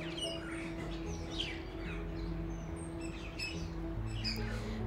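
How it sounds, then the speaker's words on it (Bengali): Birds chirping and calling outdoors on a late-season day in a home garden, scattered short tweets and whistles rising at intervals over a steady low hum, fairly faint and distant. "কি সুন্দর পাখির ডাক,"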